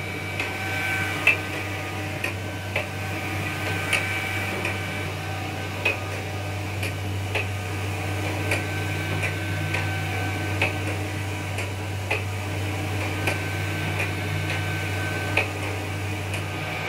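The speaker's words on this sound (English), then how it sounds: "You can see that the printer is printing a layer of white ink as a base, and then on top of the white ink is printing the color." An Océ Arizona 550 GT UV flatbed printer lays down a base layer of white ink with a steady mechanical hum. Faint regular clicks and ticks repeat every second or two.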